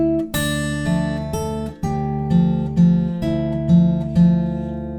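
Fingerstyle acoustic guitar plays the first line of the Harry Potter theme as a steady series of plucked notes and bass, ringing clearly with no voices.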